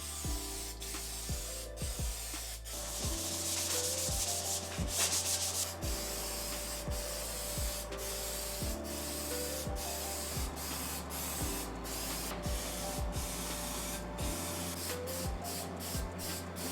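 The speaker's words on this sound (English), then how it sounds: "So now we're gonna spray lacquer on everything." Lacquer spraying onto a laser-cut map in a continuous hiss, broken by repeated clicks of the spray trigger, over a constant mechanical hum.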